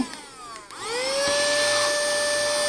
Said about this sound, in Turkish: Şimdi süpürgeyi çalıştırmak için şuradaki tuşa basıyorum.